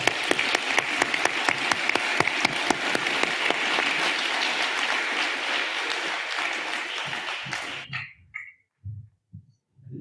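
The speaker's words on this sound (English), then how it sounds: "Can we give one more round of applause?" Audience applause at an education forum, a dense wash of many hands clapping loudly and steadily for about eight seconds before tapering off abruptly into a few scattered claps and faint murmurs.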